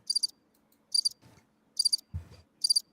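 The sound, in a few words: cricket chirping sound effect played on a podcast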